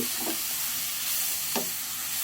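Clams stir-fried in a pan give a steady broadband sizzle with a couple of brief scraping stirs, close and continuous, no talking.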